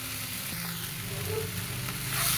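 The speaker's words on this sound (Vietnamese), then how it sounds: "mình xào chung luôn. Rồi xào thấm gia vị" A vegetarian bánh giò filling stir-fried with seasoning sizzles steadily in a pan, with a continuous hissing fry and faint stirring scrapes, close and even throughout.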